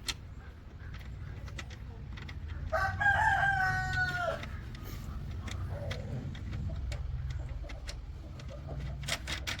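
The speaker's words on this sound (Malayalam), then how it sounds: "വീടിൻ്റെ കോഴി അങ്ങോട്ടും ഇങ്ങോട്ടൊക്കെ പോകുന്ന സൗണ്ടുണ്ട്." A rooster gives one clear crow, followed by intermittent chicken clucks and a few light clicks and taps nearby, over a low background hum.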